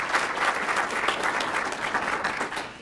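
A room of attendees at a Rotary entrepreneurial awards event applauding the co-host, steady crowded clapping heard from a slight distance, moderate in level and unbroken throughout.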